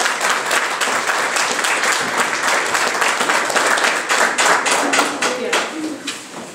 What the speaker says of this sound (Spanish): La asamblea, le podamos dar un fuerte aplausote a Jacibet